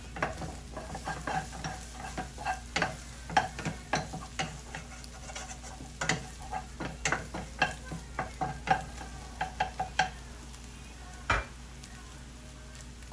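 Scrambled egg and rice stir-fry in a hot pan, with a sizzling bed broken by repeated sharp scrapes and taps of the utensil in an irregular rhythm, close and clear.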